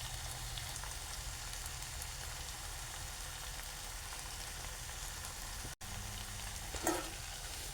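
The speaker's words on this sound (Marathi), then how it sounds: "आता मी हे परतून घेतो" Stuffed ridge gourd coated in masala paste sautéing in a pan, a steady dense sizzle and frying hiss running throughout with a brief stir-like scrape near the end.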